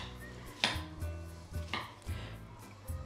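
A knife cuts apples into small pieces on a board for an apple pie, giving a few sharp, separate chops with pauses between them and a faint background hum, with no talking.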